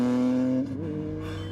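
A car engine in a movie car chase holds a steady tonal drone, then the pitch drops and shifts as the vehicle changes gear or passes, with no voices over it.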